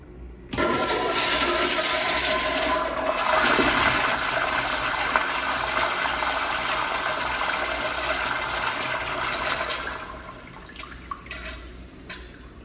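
A commercial toilet flushes with a loud rushing surge of water, then settles into a steady hiss of refilling before the valve shuts off and the sound tapers off near the end.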